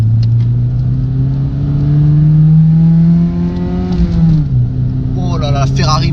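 A BMW E30 316i pulls onto a motorway at full throttle, its engine droning loud from inside the cabin as the pitch climbs, drops at a gear change, then climbs again while someone talks over it.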